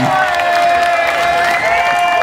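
A festival crowd at a Nubiyan Twist set at Beat-Herder Festival 2013 cheers and applauds loudly and steadily, with whistles rising over the dense clapping.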